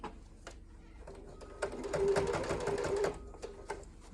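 A sewing machine back stitching in a short, quick burst of rapid mechanical needle clatter, close and fairly quiet, with softer pauses before and after.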